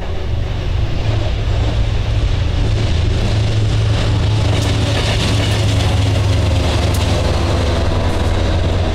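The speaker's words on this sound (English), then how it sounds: "AMD GP15 Amtrak engine lone, heading down to New Jersey." A lone Amtrak AMD GP15 locomotive at Morrisville, heading toward New Jersey, gives a loud, continuous low diesel drone with a rough, steady rumble for the whole stretch.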